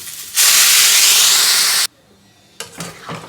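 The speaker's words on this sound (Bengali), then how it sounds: "এবার এর মধ্যে আমি গরম জল দিয়ে দিচ্ছি" Hot water poured into spiced masala frying in a pan for Bengali neem jhol gives a loud, steady sizzling hiss lasting over a second, then drops away before a quieter crackle returns.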